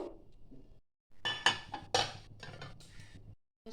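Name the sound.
covering a bowl of marinated chicken with a lid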